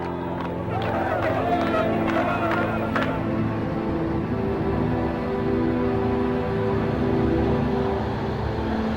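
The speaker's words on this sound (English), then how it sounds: "A tumultuous crowd gathers at Lod Airport to welcome home the returning heroes" Tumultuous crowd at Lod Airport greeting returning rescue planes, a dense babble of voices with brief clapping and cheering early on, then a steady roar of hubbub.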